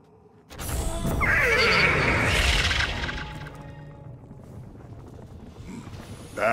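A horse neighing in the video game Destiny 2, a loud, drawn-out whinny rising and falling over a rumbling crash, then fading into low background noise.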